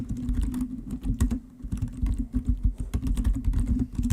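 Rapid, loud clacking of keys on a computer keyboard, close up and continuous, with uneven bursts of keystrokes.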